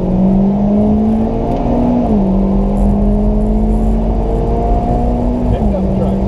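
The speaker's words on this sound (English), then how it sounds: "Check out this drag race side by side." A Mitsubishi Evo and a Ford Lightning pickup drag race side by side, a sustained engine whine climbing through gear shifts, loud and continuous.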